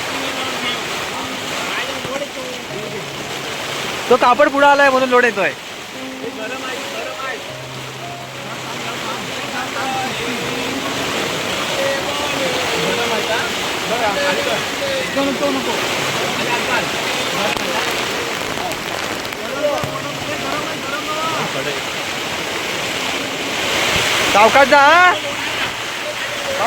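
Heavy downpour hisses steadily over an open field, a dense wash of rain noise with gusting wind, while people talk and call out over it.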